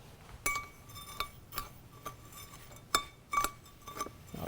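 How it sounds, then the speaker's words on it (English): Spoon clinking against a bowl while stirring gremolata with lemon: a sequence of light, bright chinks at an uneven pace, close and fairly quiet, with no talking. "let's give that a little stir"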